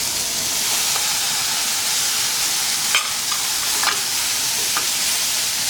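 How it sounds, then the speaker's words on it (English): Capers hit hot olive oil in a pan for shrimp scampi, giving a steady broadband sizzle with a few brief crackling pops over the hiss, close and continuous without any talking. "Now we're going to throw in there the capers."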